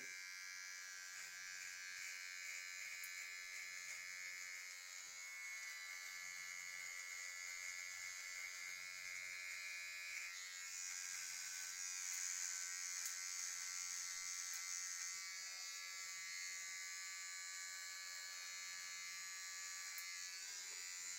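Electric beard trimmer running steadily close up while trimming and defining a beard line, a continuous high buzzing drone that shifts slightly in pitch as it moves along the hair, with no talking.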